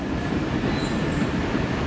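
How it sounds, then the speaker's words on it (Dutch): An IC train pulls into a platform at Brussels-South station, producing a loud, steady, close rumble of wheels and carriages that fills the whole moment. "die C-trein naar Aden-Doornik van 16:13 komt aan op spoor 18"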